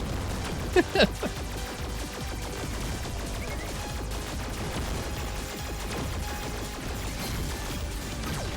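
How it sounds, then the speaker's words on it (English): Dense, continuous crackling blasts and rapid bursts of gunfire-like explosions in the arcade shooter Sektori, with a couple of sharper impacts standing out near the start. "Will that explosion do it?"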